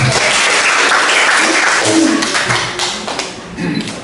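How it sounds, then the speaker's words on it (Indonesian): A school audience applauding during a student council candidates' vision and mission presentation at a senior high school, loud, close, steady clapping that thins toward the end. "Mari kita berikan tepuk tangan untuk Pak."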